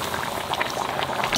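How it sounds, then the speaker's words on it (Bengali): Water boiling in a cooking pot for a magur fish and potato curry, a steady bubbling and roiling close by that continues throughout without a break. "জলে জাল উঠে গেছে"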